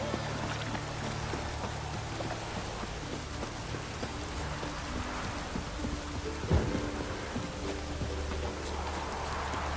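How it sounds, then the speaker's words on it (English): Steady heavy rain and a low rolling thunder rumble in the video game The Witcher 3, with one sharper crack of thunder near the end, constant and enveloping with no talking. "No use doing any work in this rain."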